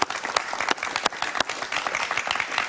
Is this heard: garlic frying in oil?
no